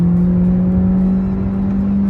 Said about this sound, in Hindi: क्रेजी आवाज यार इंजन की तो यार, फिर 100 पे चढ़ गई।